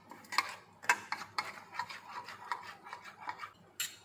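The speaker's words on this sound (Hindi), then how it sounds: "तो इन तीनों को जो है मैं इस एग में ऐड कर देती हूँ। इसको हम एग में मिक्स कर लेंगे।" Egg being mixed in a bowl with salt, black pepper and crushed chilli, soft scraping and stirring strokes in an irregular rhythm, close and fairly quiet, with a few sharper taps.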